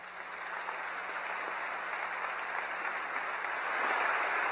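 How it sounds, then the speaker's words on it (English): Applause at a university graduation ceremony, a steady, even wash of many hands clapping that fills the whole stretch and swells slightly toward the end, heard from some distance in a large hall. "Let's have a round of applause for these individuals."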